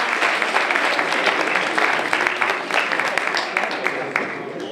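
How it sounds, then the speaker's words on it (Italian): Audience applause at a Paris talk event, a steady dense patter of clapping hands that holds at an even loudness for the whole span with no voices on top. "Un applauso per favore"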